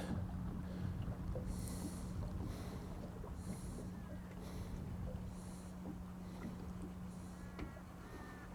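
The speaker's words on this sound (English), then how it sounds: "Boat just drove past, so it'll be interesting to see how these guys react" A motorboat engine drones steadily at moderate distance as it drives past, a low constant hum with water and light wind noise around it.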